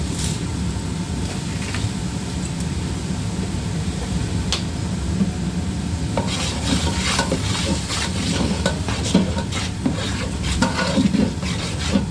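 Onions and turmeric fry in a pan with a steady low sizzle, joined by intermittent scrapes and knocks of stirring that grow busier in the second half.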